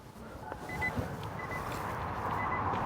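Nissan LEAF electric car sounding its reverse warning, a few faint, high, evenly spaced beeps over steady outdoor background rumble.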